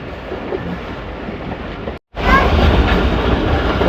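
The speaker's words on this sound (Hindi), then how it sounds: "पाकिस्तान एक्सप्रेस का खूबसूरत सफ़र जारी है" The Pakistan Express passenger train runs along the rails with a loud, steady rumbling roar and faint wind noise, broken by a brief cut before the noise returns even louder.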